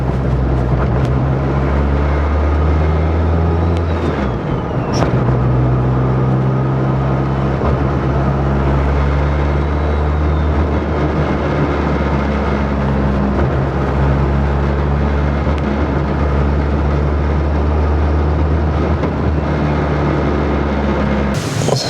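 A car engine sputters and struggles while coasting, heard up close as a steady, loud, rough drone with uneven low rumble and a brief sharp knock midway.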